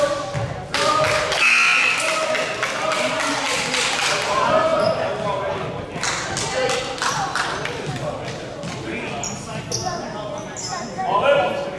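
Ball bouncing on a gym floor during a youth basketball game, repeated thuds at a steady dribbling rhythm mixed with sneaker squeaks, crowd noise and shouting voices.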